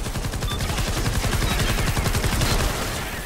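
Sustained, loud machine gun fire from Fortnite Save the World, rapid evenly spaced shots running continuously for about three seconds alongside other game sounds.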